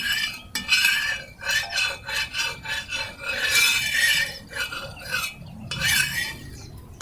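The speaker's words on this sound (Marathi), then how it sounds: "एकसारखं तव्याला तेल पसरवायचं आहे" Repeated scraping and rubbing strokes spread oil across a hot metal griddle in a steady back-and-forth rhythm, close by.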